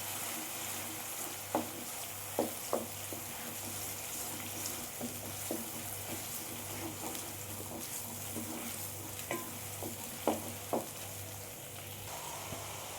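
Chopped onions frying in hot oil in a pan for chana masala, a quiet steady sizzle with occasional sharp clicks and taps of a utensil against the pan scattered through.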